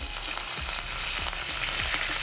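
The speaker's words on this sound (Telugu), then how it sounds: "వీటిని లైట్గా ఫ్రై చేసుకుందాం" Urad dal and chana dal fry lightly in a pan with a steady, close sizzling hiss and faint crackles, alone without talk.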